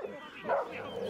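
A small dog outdoors on a riverside walk gives a few quick yapping barks and whimpers, moderately close, with wind and outdoor ambience around it.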